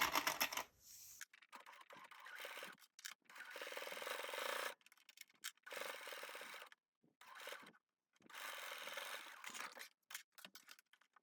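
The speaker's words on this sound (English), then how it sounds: "we're going to sew those edges with a 1/4 inch seam allowance" A sewing machine stitches the fabric edges of a bowler bag at a quarter-inch seam allowance, running in several short, close mechanical bursts separated by brief pauses.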